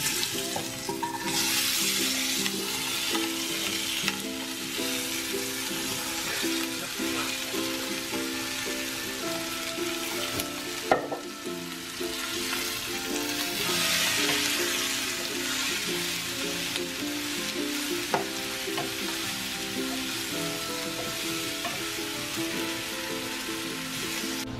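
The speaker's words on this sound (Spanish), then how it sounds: "Ahora lo que voy a hacer es guisarlo en un sartén." Mango, chilies, onion and garlic fry in oil in a pan for a spicy sauce, giving a steady, close sizzle with occasional stirring clicks and scrapes throughout.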